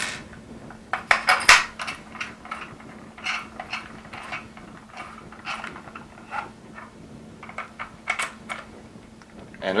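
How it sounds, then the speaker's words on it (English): A barrel and CO2 end cap are reinstalled on a Tippmann TPX paintball pistol: scattered small metallic clicks, taps and handling clatter up close, irregular and fairly quiet, with no talking. "Next we can reinstall our barrel and CO2 end cap."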